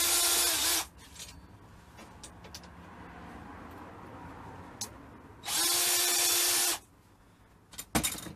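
A power drill bores 4mm holes for a boot shelf in a Land Rover Discovery 300 TDI. There are two loud, close bursts of high whine, each about a second long and separated by quieter handling noise, followed by a few clanks.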